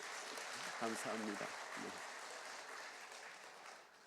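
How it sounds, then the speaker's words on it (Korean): Church congregation applauding steadily at a low level throughout, with a short spoken exchange over it near the start. "우리 이 시간에 다시 한번 박수로 격려하겠습니다."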